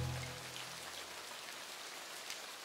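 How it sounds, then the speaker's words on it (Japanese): A sunshower falls steadily in an anime game scene, a continuous patter of rain hissing on surfaces at an even level throughout, with no voices. "あら、お天気雨？"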